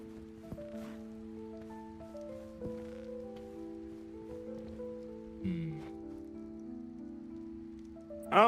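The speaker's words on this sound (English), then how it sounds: "it's starting to rain again." Steady light rainfall patters across the landscape in Ark Survival Ascended. The soft, even hiss continues beneath sustained low musical tones, with a few faint clicks and a brief louder rustle near the end.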